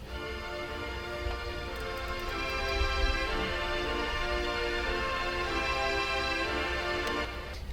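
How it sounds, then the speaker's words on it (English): Soft orchestral strings sustain a wide, smooth pad in a nightcore build-up, holding steady and full with a gentle swell near the middle, no voices present. "I added these strings, like a soft orchestra."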